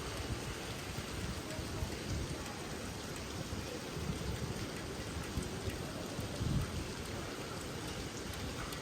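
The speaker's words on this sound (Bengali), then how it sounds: "এই যে দেখেন, বৃষ্টি কিন্তু আছে" Soft, steady rain patters on surfaces in a continuous gentle hiss, heard from nearby at low volume.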